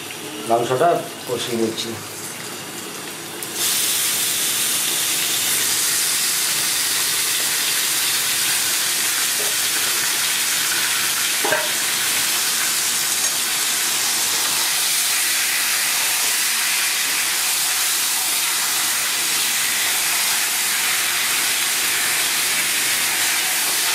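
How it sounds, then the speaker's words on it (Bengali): Chicken meat sautéed in fried spices, a steady loud hiss and sizzle that holds for about twenty seconds after a woman's brief speech at the start. "তো আমি মাংসটা কষিয়ে নিচ্ছি"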